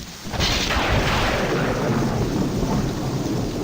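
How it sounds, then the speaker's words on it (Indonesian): Heavy thunder rumbles and rolls continuously over steady pouring rain, loud and close, with no voices. "kilat dan petir silih berganti bersahutan"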